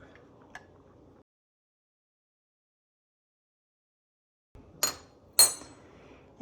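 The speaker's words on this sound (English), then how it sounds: "I'm going to go ahead and scoop out this top pulp and just throw it in the compost bucket." Tomato pulp is scooped from a container and dropped into a compost bucket, heard as a few sharp, close clinks and taps separated by a long silent gap.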